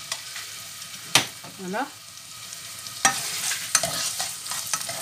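Olive oil heats gently in a pan, making a steady, quiet hiss broken by a few sharp spatter clicks and light utensil sounds; a voice briefly says a single word.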